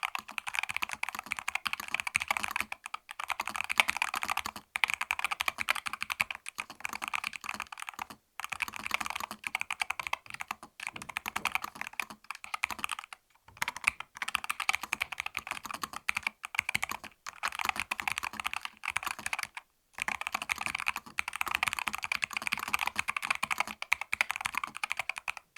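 Steady, fast typing on a computer keyboard marketed as very fast, a dense run of close clicks broken by a few short pauses, with no talking.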